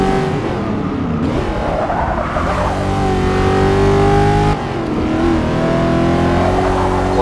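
A 1973 Pontiac Firebird Trans Am SD 455 V8 in Forza Motorsport 6 revs loud and close, its steady engine drone rising and falling in pitch through gear changes, with brief tyre skids and no talking.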